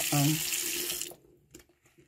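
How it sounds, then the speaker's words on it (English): Water runs from a sink tap while a vintage Madame Alexander Puddin doll is rinsed, a rushing splash for about a second before stopping, followed by faint drips and handling sounds. "Now that she's been rinsed, all the soap is out."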